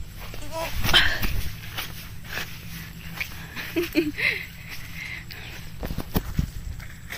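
A dog gives a few sharp barks and whimpers at moderate distance, mixed with footsteps and rustling outdoors in a rice paddy field.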